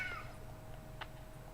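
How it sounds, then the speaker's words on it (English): A cat meows and wails in a gacha video game, one short rising cry over a low steady hum of game background sound. "Why is there a cat screaming at me?"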